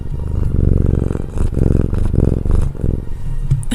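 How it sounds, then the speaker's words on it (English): A pet cat purring right against a microphone, a loud, steady low rumbling purr in rhythmic breath cycles, close and alone. "You might be able to hear my cat purring right now in the microphone."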